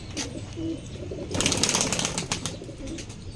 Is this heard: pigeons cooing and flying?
yes